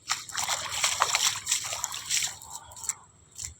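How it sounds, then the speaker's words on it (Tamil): Water wells up from a spring, sloshing and trickling with irregular splashes close to the microphone, continuous and moderately loud. "பாருங்கள், தண்ணி வந்துகிட்டே இருக்குது பாருங்கள்."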